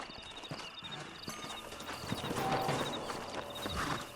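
Horses clip-clop at a walk on hard ground in Red Dead Redemption, hooves steady and mid-distance, with faint game ambience and tones behind.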